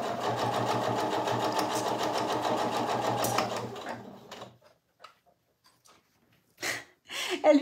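Domestic sewing machine stitching a narrow seam allowance, a steady fast mechanical whir with rhythmic needle chatter running for about four seconds, then stopping, followed by faint handling clicks and brief breaths near the end.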